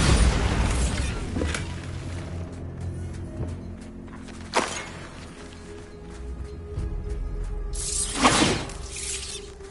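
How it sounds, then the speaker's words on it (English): A Bombarda blasting spell in Hogwarts Legacy goes off in a loud shattering burst, followed by a sharp crack midway and another booming, debris-filled blast near the end, with no talk. "Bombarda."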